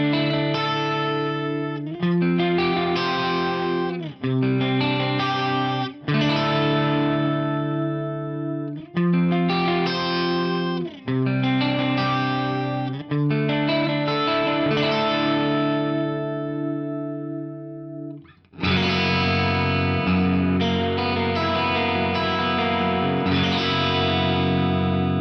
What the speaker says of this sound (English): This should give us a pretty sweet sounding chorus sound.